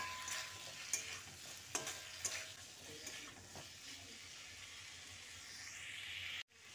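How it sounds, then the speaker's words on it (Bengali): Pumpkin is stirred with turmeric, cumin and red chilli powder in a pan, a quiet sizzle with occasional soft spatula scrapes and knocks and no talking. "মশলাগুলো দিয়ে কুমড়োর সঙ্গে ভালো করে মিশিয়ে নিচ্ছি"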